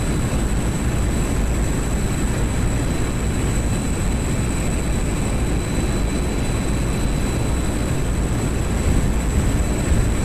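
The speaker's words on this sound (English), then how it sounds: "Oh, I fired the Ratos. Rocket assisted takeoff." A steady, loud roar from an aircraft making a rocket-assisted takeoff in the DCS World flight simulator. The blast holds constant for the whole stretch with a thin whine riding on top, and no voices are heard.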